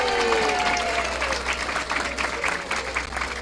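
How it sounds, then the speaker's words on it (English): An outdoor crowd at a school dedication and ribbon-cutting ceremony claps in a strong, continuous round of applause, with faint voices and whistles mixed into the steady clapping. "Let's give them a big round of applause"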